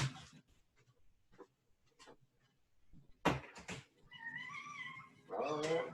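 A cat meows several times in a row, drawn-out and fairly close, after some faint rustling and a few soft bumps.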